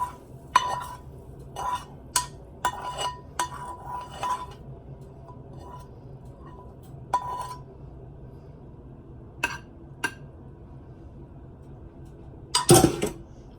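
Onions and mushrooms being served onto a plate, heard as scattered clinks and scrapes of a utensil against a pan and plate, intermittent and close, with quiet gaps between taps and a louder clatter near the end.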